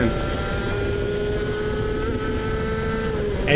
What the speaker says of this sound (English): Engine was running absolutely sweet as a nut.